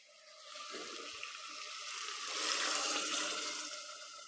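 Water poured into a pot of browned desi chicken gravy, a steady soft splashing pour that swells slightly midway, heard alone at moderate distance.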